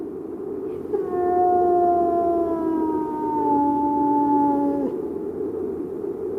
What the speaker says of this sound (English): Fear then this spirit, and seek not to hear its cry, for it summons a man of Hugo's blood to his death